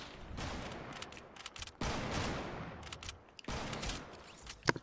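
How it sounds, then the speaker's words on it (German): Bursts of rapid video-game gunfire, several clattering volleys separated by short pauses, fairly faint and distant-sounding, with no voices. "Er schießt durch meine Beine durch"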